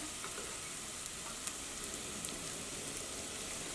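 Onions softening and sautéing in a pan for beef curry, giving a steady, soft sizzle and crackle with faint scattered pops throughout.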